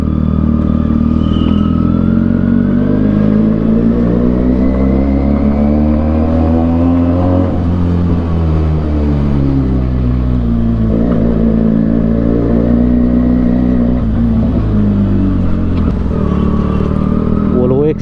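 A Benelli motorcycle engine runs and revs steadily at close range, a loud continuous mechanical drone with rising and falling pitch throughout.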